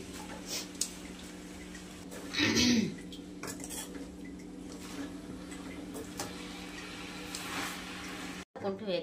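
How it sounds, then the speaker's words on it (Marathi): A spoon stirs spinach in a cooking pot, making scattered metallic clinks and scrapes while a person talks over it. "मस्त हलवून घेऊया त्याच्यात."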